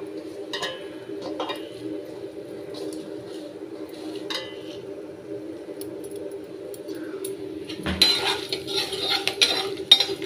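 Food being mixed by hand in a metal dish for a tiffin, soft squelching and light clinks of the vessel over a steady background hum, growing louder and busier toward the end.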